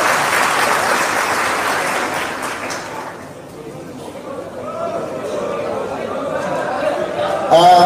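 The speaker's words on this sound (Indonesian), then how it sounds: "Tepuk tangan semuanya, teman-teman sekalian." An audience bursts into loud, dense applause that fades after a few seconds into crowd chatter and scattered talking, with a brief clap near the end.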